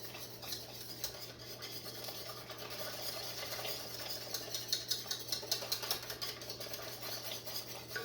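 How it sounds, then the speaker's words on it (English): A utensil stirs meatball mixture vigorously in a bowl to break up clumps, producing a steady run of quick scraping, clicking strokes that grow sharper and more rhythmic partway through. "I'm gonna stir like crazy to get those clumps."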